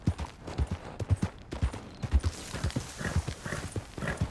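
A horse in a video game trots with a steady clip-clop of hooves, close and rhythmic. Faint neighing and a few brief scuffs come in toward the end.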